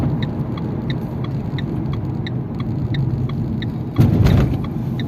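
A car driving through city traffic on a driving-test route, its engine a steady low rumble close by, with periodic faint ticking from the turn signal and a louder surge of traffic noise near the end.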